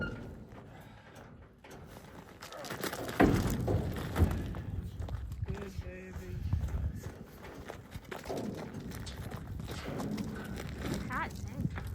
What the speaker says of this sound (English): I've never seen a horse get loaded like this before